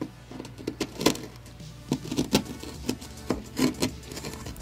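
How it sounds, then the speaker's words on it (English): A chisel scraping away ballast on a model railroad, close up, with a series of short gritty scrapes and taps in an uneven rhythm. "I'm going to do that very easily with this chisel."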